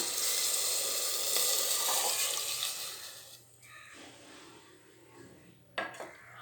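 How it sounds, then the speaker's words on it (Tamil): Coconut milk pours steadily into a pot for a few seconds, then trails off, followed by a faint clink of a utensil. "இப்போ முதல்ல தேங்காய் பாலை ஊற்றுறேன்"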